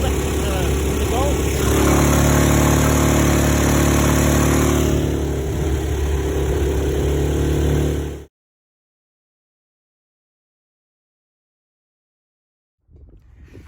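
A longtail boat driven by a 6.5hp 212 small engine runs at speed, a loud steady drone with wind and water noise for about eight seconds, then cuts to silence before a faint sound returns.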